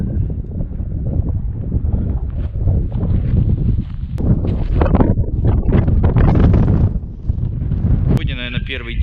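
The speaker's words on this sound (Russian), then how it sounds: "Сильный ветер." Strong wind in the Mongolian Altai gusts across the microphone in a loud, continuous roar that surges and eases, with people talking over it throughout.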